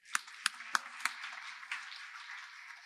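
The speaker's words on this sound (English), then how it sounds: "Another round of applause." Audience applause at a library branch grand re-opening: a few sharp, separate claps up front, then a soft, distant patter that fades, faint overall.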